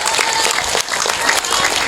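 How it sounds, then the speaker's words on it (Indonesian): An audience claps loudly and briskly at an Eid al-Fitr takbir gathering, close and energetic, with a voice briefly audible over the applause. "Tepuk tangan dulu dong, luar biasa niki."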